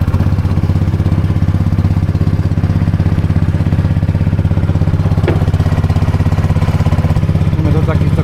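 A small motor boat on a Mekong canal runs loud and steady, its engine droning with a constant throbbing hum throughout, and a voice is faintly heard beneath it.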